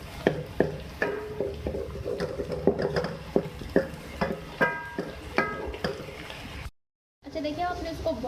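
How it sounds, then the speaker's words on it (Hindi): Chicken karahi ingredients fry in a pan while a spoon stirs and scrapes, giving soft sizzling under frequent close clinks and knocks against the metal, with a voice speaking over it and a brief silent gap. "देखिए फ्राई हो रही है।"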